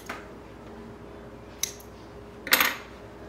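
Small thread snips cutting during the sewing of boxer briefs: two brief, crisp snips a second apart over a quiet room background.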